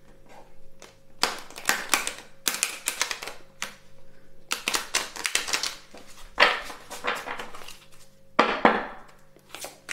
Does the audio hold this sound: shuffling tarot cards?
yes